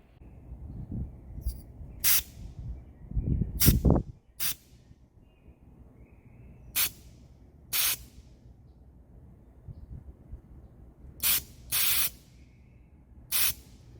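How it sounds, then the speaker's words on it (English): Short bursts of refrigerant air hiss out one after another from the yellow hose of a car air-conditioning charging setup as its valve is pressed with a tool. The bursts are loud, close and alone, with brief gaps between them. "Just push over this by any tool to release some of the air"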